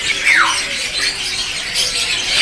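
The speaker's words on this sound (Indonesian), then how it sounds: "Berikutnya teman-teman tersedia juga untuk penampakan dari burung cucak emas." A caged cucak emas bird at the Pramuka bird market gives one short, sharp descending call over a bright, hissing wash of market background noise.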